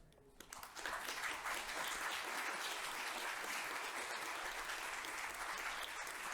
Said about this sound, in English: If we could give Rita a round of applause for everything she has done